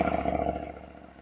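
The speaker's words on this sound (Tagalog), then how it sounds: "Maganda yung saktong tunog lang ng parallel twin, ng tunog ng KTM." KTM Adventure motorcycle with a parallel twin engine idles nearby outdoors in a public spot, a steady throbbing low rumble with a faint mechanical clatter.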